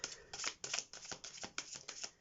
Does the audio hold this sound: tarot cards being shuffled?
yes